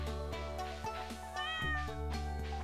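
A cat in the farming game Stardew Valley gives a few short meows over steady background music.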